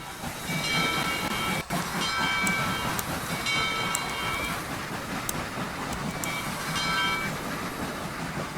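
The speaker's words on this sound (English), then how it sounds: "the engine sounds that the 630 is using, they also come with the other engines that come with the 630 pack" Southern 630 steam locomotive from the Trainz simulator game, a steady loud chuffing run with hissing steam and rhythmic clicking, continuous for the whole stretch with no talk.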